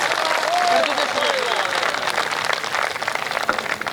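Audience applause fills a hall at a Hindi comedy poetry show, a steady wash of clapping with no spoken words.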